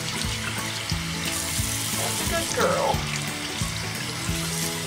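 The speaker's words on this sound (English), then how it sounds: "Let me turn off the water" Tap water runs steadily into a sink while a skinny pig is bathed, a close, constant splashing hiss under soft speech.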